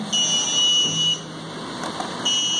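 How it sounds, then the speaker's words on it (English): A shrill electronic buzzer on an Intel Galileo Gen 2 board drones over a low hum, cutting out for about a second before sounding again. "you can now hear the buzzer being sounded"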